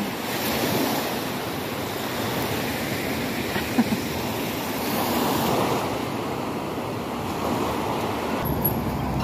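Strong wind roars continuously against the microphone, a broad rushing noise with gusts rising and falling.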